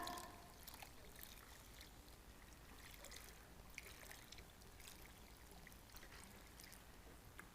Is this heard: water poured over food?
yes